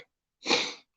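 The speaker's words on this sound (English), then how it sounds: "I'm still sniffing now" One short, wet sniff from a person after crying, a close breathy intake lasting under half a second in otherwise quiet surroundings.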